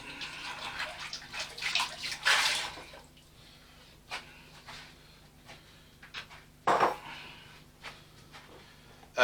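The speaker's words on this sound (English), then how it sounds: "we're just going to rinse out our bowl" Tap water splashes and runs while a mixing bowl is rinsed in a kitchen sink, coming in uneven bursts with drips and quieter gaps between them.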